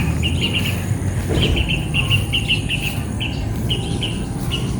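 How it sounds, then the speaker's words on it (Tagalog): A noisy bird calls outdoors after rain, repeating bright chirping phrases in bursts over a steady wet background hiss, moderately near. "Anong ibon yun? Maingay."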